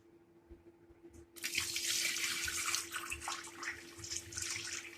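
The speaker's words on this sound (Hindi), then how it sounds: "6 गिलास चावल हैं तो इसके लिए मैं 11 गिलास पानी डालूंगी।" Tap water gushing into a cooking pot for dhaba-style dal rice, starting abruptly after a second and running steadily, close and fairly loud, with a low background hum.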